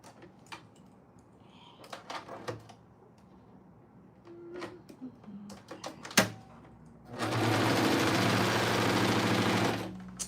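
Sewing machine stitching Oakley Bottoms, a run of steady, loud mechanical rattling near the end after scattered clicks and handling knocks, close up.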